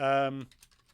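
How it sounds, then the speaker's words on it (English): Typing on a computer keyboard during a Nintendo Switch Online livestream. A short voiced tone comes first, then a few faint, scattered key clicks close by. "I'm just going to start typing this."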